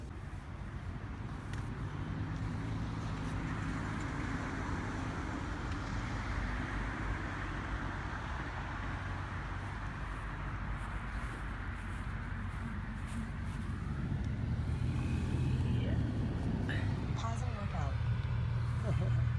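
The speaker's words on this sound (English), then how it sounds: "Almost got ran over by that bus." Steady roar of road traffic with a bus passing close by, a broad continuous rumble that swells louder toward the end as the heavy vehicle goes past.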